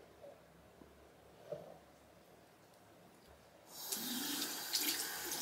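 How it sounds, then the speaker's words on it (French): After a few quiet seconds of faint movement, a tap opens and water gushes steadily into a sink while someone rinses their face, a close, continuous splashing rush. "Je rince ensuite mon visage."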